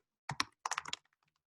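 Fingers tap on a computer keyboard in two quick bursts of crisp, close clicks, followed by a few faint stray keystrokes in an otherwise quiet room.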